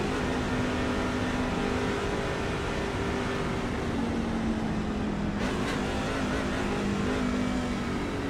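NASCAR trucks in an iRacing sim race at Homestead drone steadily as the field heads onto pit road, a sustained engine hum with shifting pitch and a brief burst midway, no talk over it.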